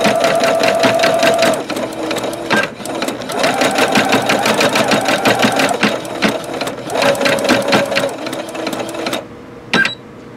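A Singer Futura Quintet sewing machine embroiders with metallic thread through a top stitch needle, a loud close rapid mechanical chatter that runs continuously with short pauses and shifting pitch.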